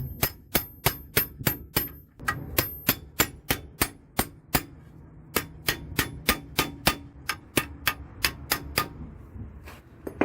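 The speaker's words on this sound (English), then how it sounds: "So we're going to use the ball joint splitter on the top here" Repeated metal-on-metal hammer blows on a ball joint splitter at the top of a Toyota Yaris wishbone, around two dozen sharp ringing strikes in a steady rhythm with brief pauses, loud and close.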